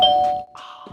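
A doorbell chime played through a Bluetooth speaker rings out loud and close: one bright ding-dong with a sustained first tone that fades, followed by a softer second note.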